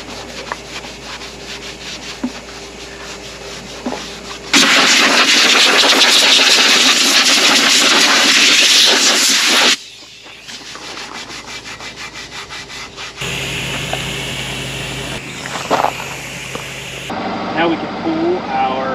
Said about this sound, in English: all we really need to do is Scotch-Brite them, scuff them in really good